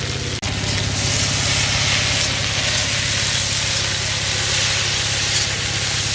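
Taro stolons and shrimp fry in a pan with a steady, loud sizzle and hiss that holds throughout, broken only by a brief dip near the start.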